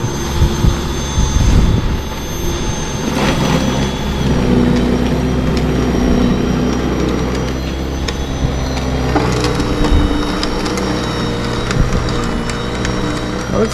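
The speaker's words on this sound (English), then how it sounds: "This is why I got this snowblower" WORX 20-inch electric cordless snowblower running outdoors in cold snow, a steady loud whirring roar with crunching and scattering snow sounds throughout, no voices.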